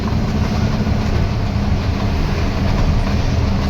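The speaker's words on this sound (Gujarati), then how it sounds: "જો મેટ્રો ટ્રેન પહોંચે" A metro train rumbles past steadily in Indore with a loud low roar and faint rhythmic rail clatter, continuous throughout and close by.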